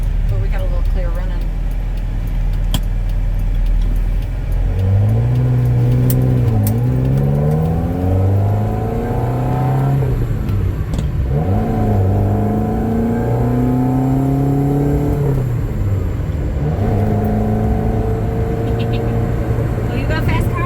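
A 1979 Ferrari 308 GT4 engine revs and accelerates up to fifth gear, its pitch climbing and dropping through several gear changes, loud and close with a steady road rumble underneath.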